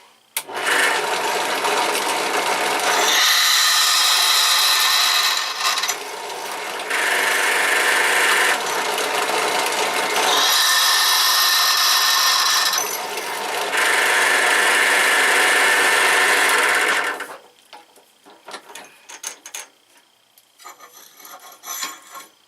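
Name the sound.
drill press drilling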